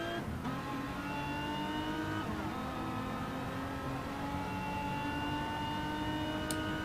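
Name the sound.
Mazda race car engine in a racing video game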